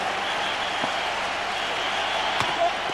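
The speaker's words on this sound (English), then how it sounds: "A bit of excitement in the crowd." A big stadium crowd at the 2003 TVS Cup cricket final between India and Australia roars and applauds after a boundary, a steady, dense wash of cheering that fills the whole stretch with a few sharper claps poking through.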